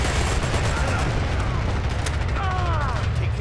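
Gunfire in the online shooter Dirty Bomb: a steady wash of rapid shots and a few sharper cracks runs through the whole stretch, loud and dense, with game voice callouts over it.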